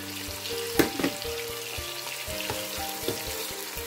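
Chopped celery tipped into tomato frying in a pan for Cameroonian-style fried beans, a loud bright sizzle with a couple of sharp knocks as it lands, followed by scattered scraping and tapping of the utensil.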